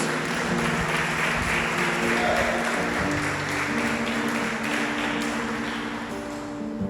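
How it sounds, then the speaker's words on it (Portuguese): A church congregation applauds at a worship service, a dense sustained wash of clapping from many hands that holds steady for the whole span and fades slightly near the end. "E se você crê, aplauda o Senhor em nome de Jesus."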